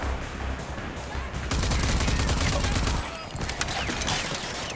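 Gunfire in the video game Wasteland, a dense, sustained barrage of shots and blasts running loud throughout, heaviest in the middle, with a voice talking faintly beneath it.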